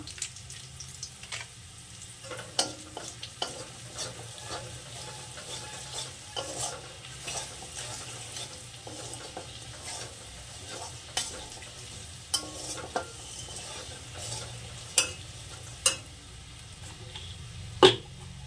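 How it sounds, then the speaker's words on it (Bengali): Spice masala of turmeric and Kashmiri chili powder fries in a pan for a vegetarian paneer dish, a low sizzle under repeated scraping stirs and scattered sharp clinks of the spoon against the pan. "মশলাটাকে একটু কষে নিয়ে এবার দিয়ে দিলাম টমেটো পেস্ট"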